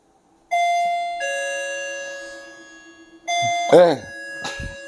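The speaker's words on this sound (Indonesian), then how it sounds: "Ada pakai bel lagi." A two-tone ding-dong doorbell in a villa rings clearly, with a second chime following; the tones ring out and sustain, and someone speaks briefly over the later chime.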